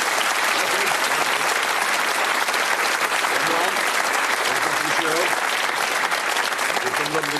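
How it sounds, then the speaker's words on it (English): A studio audience at the Bullseye game show claps loudly and steadily for two contestants, a dense, even burst of applause that fills the whole stretch without pause. "Give the lads a round of applause, Charles and Jim."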